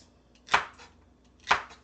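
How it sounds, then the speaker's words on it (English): A knife chopping tomatoes, onions and bell peppers on a cutting board: two sharp, close chops about a second apart against a quiet background. "So I'm chopping up tomatoes,"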